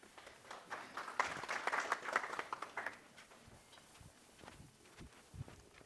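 A conference audience at a tech event applauds a prize winner, a fairly faint round of clapping that swells in the first half and then dwindles to a few scattered claps.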